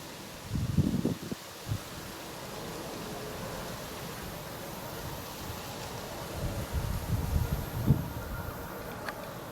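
Steady wind noise rumbles and buffets across the whole stretch, with a few louder low gusts near the start and again toward the end, no talking.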